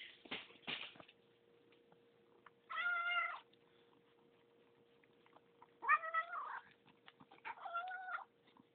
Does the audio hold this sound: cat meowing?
yes